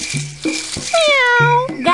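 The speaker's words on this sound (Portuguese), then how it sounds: "Gato." A cat meowing several times, with one long drawn-out wavering meow in the middle, loud and close, as a sound effect in the Coelho Sabido children's hide-and-seek animal game.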